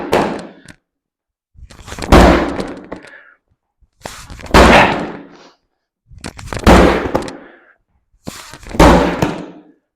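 A medicine ball slams down hard five times during a rotational slam workout, each heavy thunk spaced about two seconds apart, loud and close with a short rumble after each impact.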